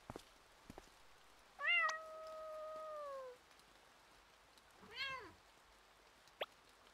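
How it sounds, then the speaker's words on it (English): A video game cat in Imposter Factory gives a long, drawn-out meow held for nearly two seconds, then a shorter, wavering second meow after a pause, both close and clear over a quiet background with a few faint clicks. "Why is that cat so long?"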